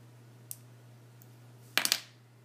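Scissors trim excess Jamberry nail wrap close by: a tiny click early on, then a quick burst of two or three crisp snips over a quiet room with a low steady hum.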